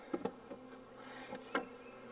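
Honey bees buzzing around an open hive, a faint low drone with a few louder passes of single bees flying close by, no voices.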